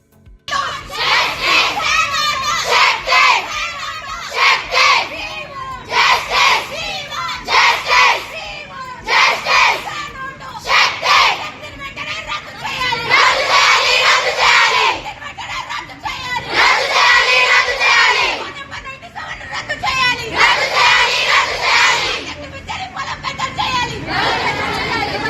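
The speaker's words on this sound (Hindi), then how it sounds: "तलबा हमें इंसाफ चाहिए के नारे लगा रहे थे।" Students at a polytechnic protest in Telangana chant slogans together in loud, rhythmic bursts, a crowd of young voices rising and pausing in repeated phrases throughout.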